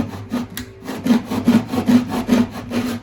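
A hand saw cuts through wood in quick back-and-forth strokes, each rasping pass close and distinct, in an even rhythm.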